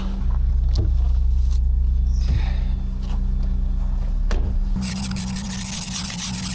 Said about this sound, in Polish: Jeszcze szybkie skrobanko.